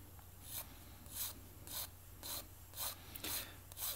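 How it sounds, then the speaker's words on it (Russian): Coarse sandpaper rasps against a model aircraft wing in rhythmic back-and-forth strokes, about seven close, quiet passes with short pauses between them. "Вот сейчас буду точить вторую сторону"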